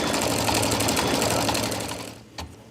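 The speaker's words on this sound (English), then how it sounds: "I'll let it stitch a few stitches" A sewing machine runs steadily, stitching through a fabric seam while a batwing sleeve is attached, a continuous close mechanical whir that winds down and stops near the end.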